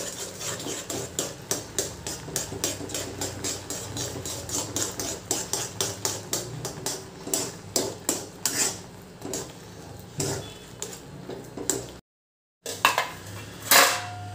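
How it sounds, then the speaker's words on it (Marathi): A spoon stirs semolina (rava) in a metal pan, scraping and clinking in a quick steady rhythm, with a brief silent break near the end before a few louder knocks. "एकसारखं आपल्याला हा रवा मिक्स करून घ्यायचा आहे, जेणेकरून याच्यात गुठळ्या पडता कामा नये"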